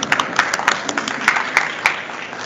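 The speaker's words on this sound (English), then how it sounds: "Please give this panel a round of applause." A conference audience at a food system climate panel gives sparse, scattered claps, individual hand claps ringing out irregularly rather than forming dense applause.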